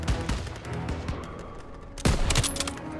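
Bursts of gunfire from the WW2 game Stronghold, with rapid cracks and thuds at varying distances and a heavier close volley near the end, over a constant battle din.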